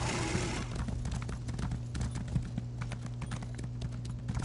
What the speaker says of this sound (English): When I get my horse out, she gets hers out.